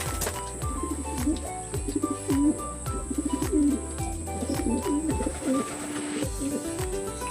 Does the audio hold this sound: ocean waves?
no